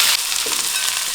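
Onions frying in a pan give off a steady, close, loud sizzling hiss that runs without a break for about a second, with no voices.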